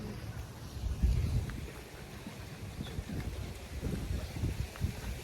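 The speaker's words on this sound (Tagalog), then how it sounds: "Medyo mahangin na." Steady wind buffets the microphone outdoors in Hawaii on an overcast day in a low, rumbling rush with gusts rising and falling, and no clear voices.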